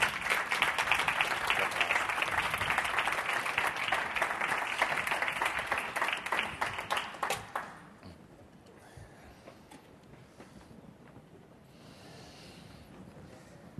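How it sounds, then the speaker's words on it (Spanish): Audience at a talk applauds the two speakers as they are introduced, with loud, thick clapping for about seven seconds that thins to scattered claps and then quiet room noise with faint rustling and breathing. "un aplauso para Javier Pérez Dolcet e Ignacio Pérez Dolcet"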